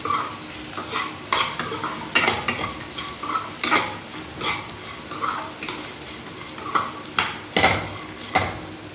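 A spoon scrapes and stirs red chili powder and ground coriander through sizzling sago khichdi in a pan, rhythmic scraping strokes over a steady fry, close up with no talk.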